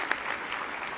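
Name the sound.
commencement audience applause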